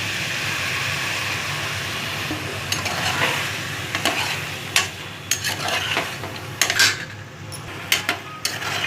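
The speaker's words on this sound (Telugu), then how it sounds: "ఇప్పుడు పచ్చి బఠానీలు వేసుకోవాలి." Green peas tossed into a pan of frying potatoes for aloo batani kurma, followed by steady sizzling and repeated scraping and clinking of a spoon stirring against the pan, growing louder and busier toward the end.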